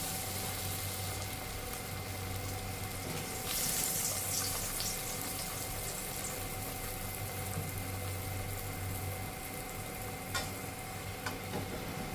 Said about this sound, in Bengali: তেল গরম হয়ে গেছে আমি এবার পরোটাটা তেলে ভেজে নিচ্ছি